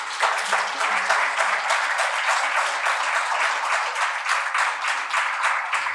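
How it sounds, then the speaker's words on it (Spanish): A church congregation applauds steadily for several seconds, dense clapping filling the room at an even level. "Dar un aplauso al Cordero"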